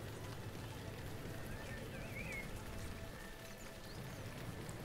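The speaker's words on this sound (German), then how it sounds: "der Regensound in EEP ist ein bisschen besser als der Standardsound von dem Vogelgezwitscher" Steady rain hiss from the EEP 6.1 train simulator's autumn weather, a dense, even broadband wash running unbroken throughout, with a faint warbling tone drifting through the middle.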